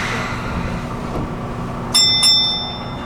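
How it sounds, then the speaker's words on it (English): Two quick tram bell strikes ring out clearly near the end in Tokyo, leaving a bright sustained tone over a low rumbling background. "We're going to time it when the bell rings, because the bell's going to ring very loud."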